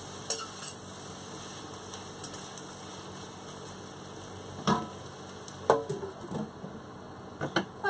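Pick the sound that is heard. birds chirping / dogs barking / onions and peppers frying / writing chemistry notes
onions and peppers frying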